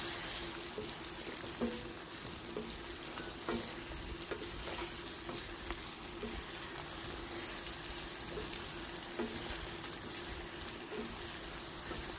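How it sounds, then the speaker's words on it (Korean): Water poured into a pan of braising lotus root as it cooks on the stove, a steady close sizzle and bubbling with faint stirring clicks running evenly throughout. "그 다음에 이제 물을 조금 둘러줘요"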